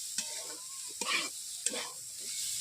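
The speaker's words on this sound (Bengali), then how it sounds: "পোস্তগুলোকে এইভাবে দিয়ে আমি নেড়ে নিচ্ছি একই সঙ্গে" Poppy seeds and onion greens are stirred in a frying pan, with a few close scraping strokes over a faint sizzle during a short quiet stretch.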